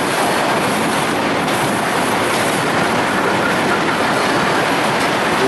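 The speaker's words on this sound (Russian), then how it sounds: "Там внизу ездят электрички." Electric commuter trains running on tracks below a railway bridge near Moskva-City, a loud, steady roar of passing cars with rhythmic wheel clatter.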